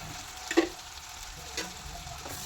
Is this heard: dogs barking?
no